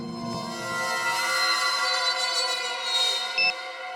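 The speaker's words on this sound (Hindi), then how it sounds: "कहीं धीमी आवाज में तो नहीं बजा अलार्म?" An alarm clock sounds a continuous, bright electronic tone, steady and fairly loud throughout with no talking, and one short blip near the end.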